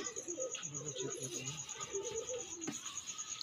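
Soft, low pigeon coos murmur close by inside a box, overlapping in a loose rhythm, with a faint steady high whine in the background.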